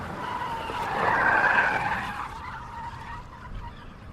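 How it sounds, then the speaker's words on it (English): A car roars away with its tires squealing on an asphalt road, a loud sustained screech that swells and peaks midway, then fades as the vehicle pulls off, with no voices. "I heard the roar of his car in the garden, the tires squealing on the asphalt road."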